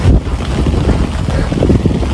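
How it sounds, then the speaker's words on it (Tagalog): Strong wind buffets the microphone with a constant loud, rumbling roar, outdoors during heavy rain in Japan. "Sobrang ulan today. Grabe, mahangin pa. Mahangin siya."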